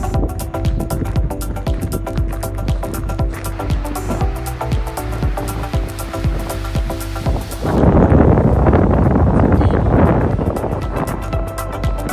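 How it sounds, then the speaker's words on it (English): Strong, cold morning wind blasts across a California beach among sand dunes, a loud continuous roar with buffeting gusts against the microphone that grows heavier toward the end. "But it's windy and cold this morning too."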